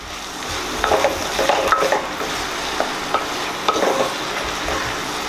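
Chicken curry is stirred in a pan with a utensil, giving a steady close sizzle and frying hiss broken by repeated scraping strokes and light clinks against the metal.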